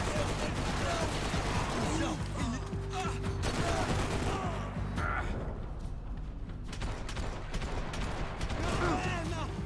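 Sustained weapon fire in the Max Payne 3 video game: dense, rapid shots and mechanical clatter run continuously under game noise, with a voice talking over part of it.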